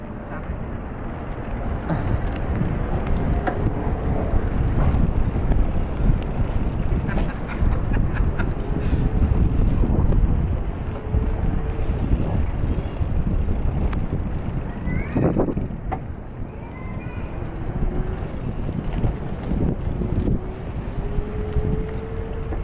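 A bicycle is ridden outdoors on a commute from Mount Vernon to the White House, with loud, steady wind buffeting the microphone for the whole stretch and a few faint squeaks and chirps.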